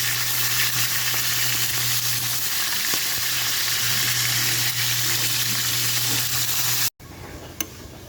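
Tilapia frying in hot oil gives a loud, continuous crackling sizzle with a low steady hum, ending abruptly before a quieter stretch with a single sharp tap.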